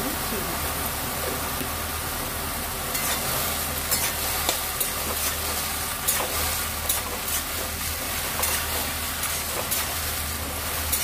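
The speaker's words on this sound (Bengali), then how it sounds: "দশ মিনিট পর ঢাকনাটা খুলে নাড়াচাড়া করে দেব।" Water lily greens being stirred in a pan as they cook down with their own released water, giving a steady close sizzle with occasional scraping stirs, with a low hum underneath throughout.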